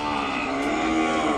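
A calf at the Kodada cattle market gives one short, loud, close moo, sustained and tonal, heard alone with no talk.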